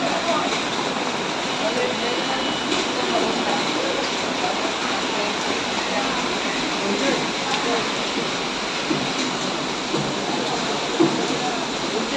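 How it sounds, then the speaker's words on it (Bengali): Heavy rain pours down outdoors in a dense, steady hiss like rushing water, loud and unbroken throughout. "প্রচুর বৃষ্টি পড়ছে"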